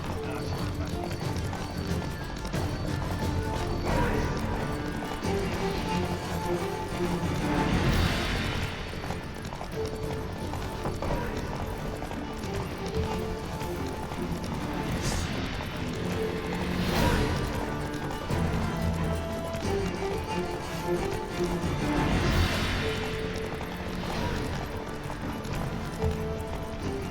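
Hoofbeats of the horse Roach in The Witcher 3 game, a steady galloping clip-clop that runs throughout over a dense bed of game music and effects, with occasional talk over it.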